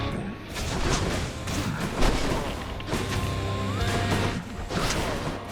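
Continuous booming blasts and crashing explosions from the video game Hades, dense and loud with repeated impacts over several seconds.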